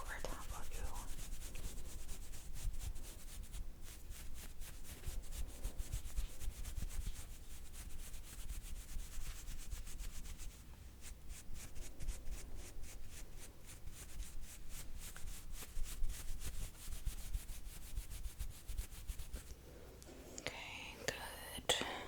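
A makeup brush rubbed gently, soft close scratchy brushing strokes in rhythmic bursts under quiet whispering, intimate and faint, with a rustle near the end.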